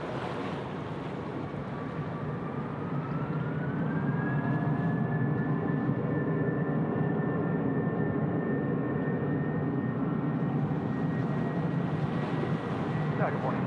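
A jet aircraft taking off at Sydney Airport, heard outdoors as a continuous loud roar with a rising whine that swells and holds steady over wind noise.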